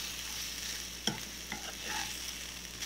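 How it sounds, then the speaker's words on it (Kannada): Grated coconut being stirred and roasted in a pan over a low flame gives a soft, steady sizzle, with a few scraping stir strokes near the middle. "ತೆಂಗಿನ ತುರಿಯನ್ನು ಕೂಡ ಹಾಕ್ತಾ ಇದ್ದೇನೆ. ಈಗ ಇದನ್ನು ಸಣ್ಣ ಉರಿಯಲ್ಲಿ ಒಂದು 5-10 ನಿಮಿಷ ಹುರಿಬೇಕು."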